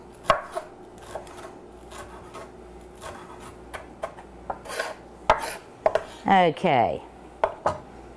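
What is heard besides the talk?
knife chopping parsley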